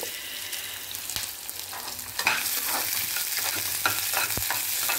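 Onions sizzle and fry in a pan for aval upma, a steady close hiss broken by scraping stirs of a spatula, with no voices over it.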